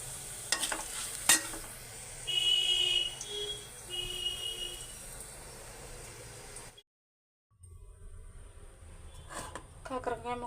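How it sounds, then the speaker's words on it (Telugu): Bitter gourd pieces frying in oil with a steady close sizzle and occasional stirring clinks, a brief beeping tone partway through and a short silent gap before the sizzle resumes. "కాకరకాయ ముక్కలు ఇలా వేయించుకోవాలి."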